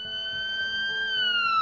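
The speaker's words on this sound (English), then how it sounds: "when they see a fire engine driving down the road, lights and sirens" A fire engine siren wails at a moderate distance, a smooth rising and gliding electronic tone that grows slightly louder over its short span, heard alone without voices.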